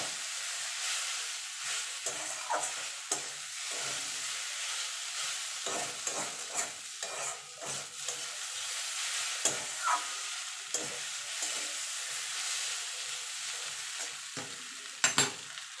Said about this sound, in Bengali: সুজিটা ভেজে দেখুন সুজির কালারটা দেখুন কত সুন্দর এসছে আর একটু ভেজে নেবো